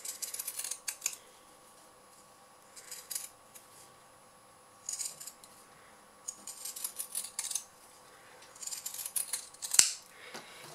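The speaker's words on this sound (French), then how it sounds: "je vais découper l'excédent de tissu à l'aide de mes ciseaux cranteurs" Pinking shears snip through excess fabric around a sewn wallet flap in several separate bursts of crisp crunching cuts with quiet pauses between, close and clear.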